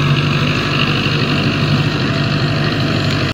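A tractor drags a computer-controlled laser land leveller across a farm field, its diesel engine droning loud and steady at close range for a few seconds.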